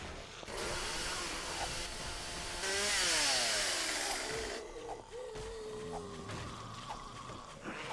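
A drill whines continuously in the video game 7 Days to Die, a loud mechanical buzz whose pitch rises and falls as it bites and eases off.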